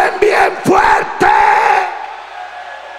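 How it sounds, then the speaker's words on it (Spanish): A church congregation at a convention in Cali shouts amen loudly together, a swelling crowd roar in a few big bursts that then fade into a lingering hall reverberation. "¿Cuántos pueden gritar amén toda esta congregación? A ver, un amén bien fuerte."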